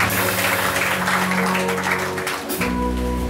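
Crowd applause and acclamation for Jesus at a church ceremony laying the first stone of a missionary centre, a dense, steady wash of clapping with music underneath, briefly dipping before resuming.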